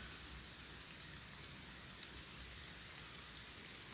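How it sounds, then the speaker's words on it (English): Light rain beginning to fall on a poncho shelter outdoors, a soft, even hiss of drops that stays faint and constant without any talk. "And actually it is starting to rain."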